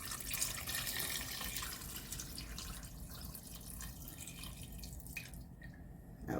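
Canned beef broth pours from a can into a soup pot, a steady liquid gurgle and splash that runs continuously before trickling into drips near the end.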